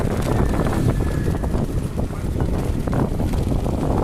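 Strong wind buffets the microphone in a continuous, loud rushing roar with gusty fluctuations throughout.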